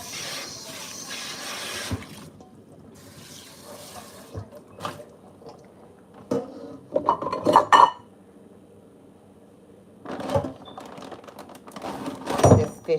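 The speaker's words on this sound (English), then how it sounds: "So just washing this bowl, and I'm gonna rinse it out real good." A bowl is washed and rinsed at a sink, with running water and repeated sharp clinks of dishes and cutlery in uneven clusters, close and fairly loud, with no talking.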